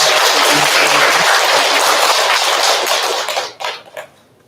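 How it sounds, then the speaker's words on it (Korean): Loud, dense applause from a congregation fills a Buddhist temple hall, sustained for several seconds before tapering off into a few scattered final claps. "우리 열심히 기도하신 우리 교무님한테 큰 박수 한번 부탁드리겠습니다"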